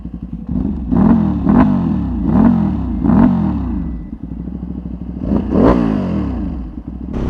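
A Ducati superbike's exhaust blips in a series of sharp revs, about five throttle bursts in quick rhythm and then a final louder rev, close and loud with a clattering idle between them.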